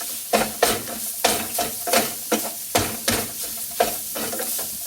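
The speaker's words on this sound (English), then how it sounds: "we will mix that up and let that cook for just a minute" Meat for hotdog chili is stirred in a hot pan, giving a steady sizzle with regular scraping strokes of the spoon about twice a second, close by.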